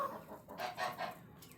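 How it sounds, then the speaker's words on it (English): An Australorp hen about seven years old clucks in a few soft, separate bursts close by, with mild background noise and no talk. "7-year-old chicken."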